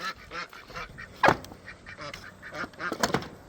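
Turkey gobbling and calling in a farmyard near a gate, with several short honking calls and bursts close by, fairly loud over light background noise.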